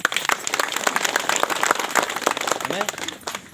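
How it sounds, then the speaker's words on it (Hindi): A crowd at an outdoor village gathering claps steadily for a few seconds, dense broadband applause with a voice briefly audible near the end. "एक बार तालियां बनती हैं इनके लिए।"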